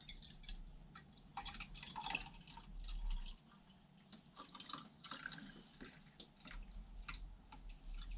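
Water poured into a film developing tank, about 100 ml for a rinse during a Tetenal C-41 colour process, trickling and dripping in soft splashes at a quiet, close level, with no voices.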